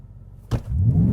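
A 2023 Ford Raptor R with a supercharged V8 launches into a four-wheel-drive burnout, a sudden loud burst of engine and tire noise swelling into a deep, sustained roar.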